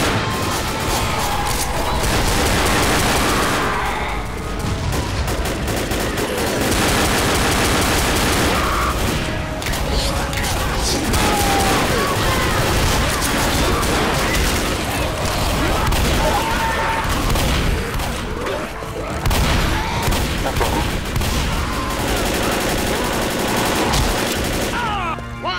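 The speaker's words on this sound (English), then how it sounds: "So here you see me using my pistols on the tank." Pistols fire at the Tank in Left 4 Dead during a Death Toll 'The Street' survival round, with dense, continuous shots and booms mixed with other gunfire and crashes throughout, plus some voices underneath.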